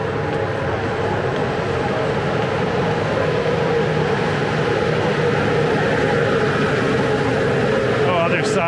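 A constant low rumble of a train rolling into a station in Brasov, Romania, loud and continuous, with a faint metallic squeal near the end.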